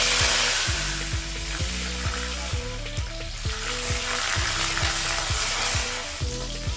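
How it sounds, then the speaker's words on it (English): Steady, crackling sizzle of curry leaves and green chilies frying in hot coconut oil with black peppercorns, close and continuous, with a few small stirring clinks and no voices. "After frying some curry leaves and green chilies for some time"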